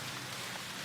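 Rain falls in a steady, dense hiss, a faint continuous wash of drops with no other sounds.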